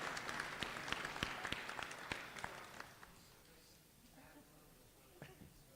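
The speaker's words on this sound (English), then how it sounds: "Give them a clap, folks." Town hall budget meeting audience gives a short round of applause, a burst of quiet clapping that fades out after about three seconds, leaving low room noise and a few scattered claps.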